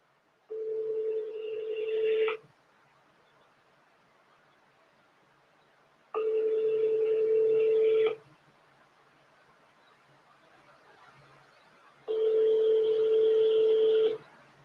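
On an outgoing phone call, three long ringback tones sound at even intervals, each about two seconds, separated by quiet gaps.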